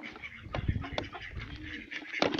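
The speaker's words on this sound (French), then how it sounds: "le mâle mandarin il commence à faire la cour à la femelle." A male mandarin duck courting a female at a home poultry farm, giving short soft calls and chattering at close range over a steady background of other birds, with no speech.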